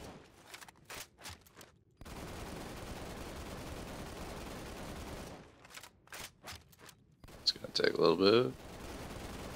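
An assault rifle in Halo 2 Anniversary fires several rapid bursts separated by short gaps, with a long sustained volley in the middle. Someone talks briefly over the gunfire.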